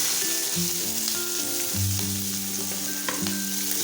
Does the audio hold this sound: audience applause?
no